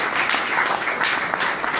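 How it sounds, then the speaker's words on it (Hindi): An audience at a business presentation claps enthusiastically, a dense burst of applause that stays loud and continuous throughout. "मैं चाहता हूं जब उनका भी नाम लूंगा जोरदार ताली बजाइएगा।"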